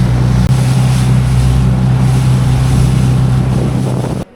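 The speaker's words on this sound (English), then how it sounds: "we can get to Valetta itself by dinghy in about 5 minutes" A dinghy's outboard motor drones steadily and loudly across the harbour toward Valletta, Malta, with wind buffeting the microphone and water rushing alongside throughout.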